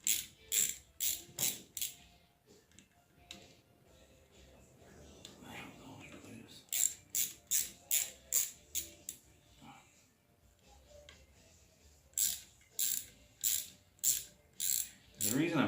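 A hand ratchet clicks in quick bursts as clutch basket bolts come off a 1984 Honda TRX200 ATV. There are three clusters of sharp, close ratcheting strokes with quiet pauses between them, and faint low shuffling sounds fill the gaps.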